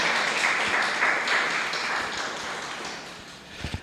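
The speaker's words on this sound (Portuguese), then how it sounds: "Quem crê nisso, aplaude o Senhor Jesus aqui nessa noite" A church congregation applauds during an evening worship service, a dense, steady wash of many hands clapping that fills the room and slowly tapers off, with a few louder thumps near the end.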